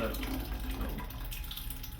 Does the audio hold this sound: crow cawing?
no